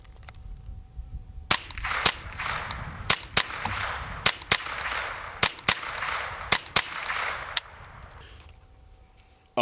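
Suppressed gunshots through a Pindrop XL carbon fiber suppressor, about ten sharp cracks spread across several seconds at an uneven pace, each followed by a brief hiss and ring, with no voices.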